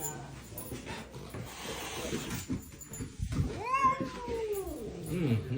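Pet cats meow in a lively exchange. Scuffling and low murmurs come first, then a string of loud, close, drawn-out meows that bend up and down in pitch, one after another near the end.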